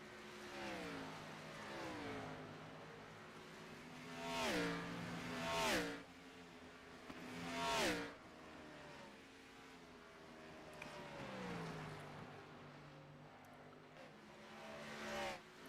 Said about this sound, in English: listening to these cars go hauling off to the corner